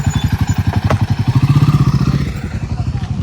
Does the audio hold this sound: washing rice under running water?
no